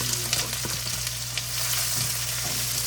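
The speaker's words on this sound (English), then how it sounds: "I'm going to saute that much a little bit" Chopped green and multicoloured peppers with onions sautéing in a pan, a steady close sizzle with a few light stirring scrapes and a constant low hum underneath, no talking.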